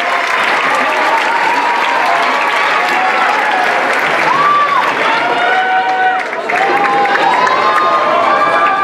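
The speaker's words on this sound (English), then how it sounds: "Let's give another round of applause" Loud, sustained applause from a dance-show audience fills the hall, steady clapping with some cheering and crowd voices mixed in throughout.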